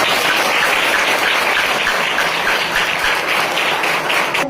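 At a school children's assembly, an audience gives loud, continuous applause, a dense wash of clapping from many hands that holds steady throughout, with no speech on top.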